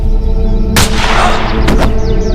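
In a Hindi-dubbed film, a single loud gunshot cracks sharply, followed by a second burst and echoing rumble beneath a tense, droning background score.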